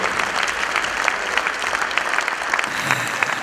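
Warm applause from a concert audience greets the composer, a steady dense patter of clapping that holds evenly for the whole stretch with no voices over it.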